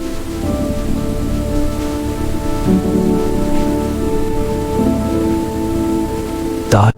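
Steady rain falls throughout with a dense hiss and low tonal hum underneath, ending in a brief louder burst before cutting off.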